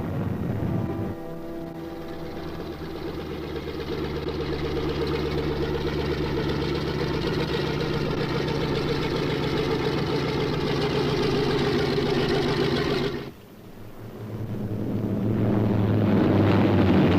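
Piston engines of a B-26 bomber droning loud and steady at close range, a heavy continuous roar that briefly drops out near the end before resuming.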